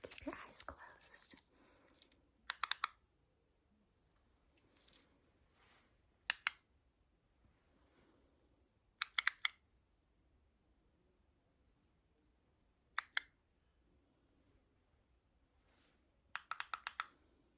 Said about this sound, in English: Now it's going to be a clicking sound.